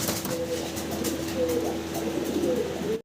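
Young fancy pigeons coo softly and repeatedly over a steady background hum, the low throaty calls rising and falling without pause.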